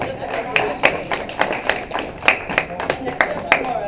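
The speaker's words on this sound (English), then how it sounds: "Can we get a round of applause for Jessica?" A small audience claps for a panelist at a Pride Day panel, a short run of scattered, distinct handclaps from a modest group, fairly close and unevenly spaced.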